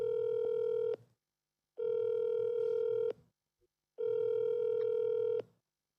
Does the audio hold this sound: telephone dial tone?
yes